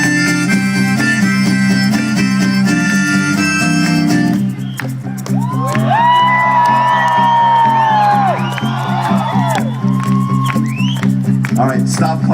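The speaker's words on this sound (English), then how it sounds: "stop clapping" A large crowd at a Los Angeles union rally erupts in loud cheering, whoops and whistles with scattered clapping, following a stretch of music, the roar sustained and close.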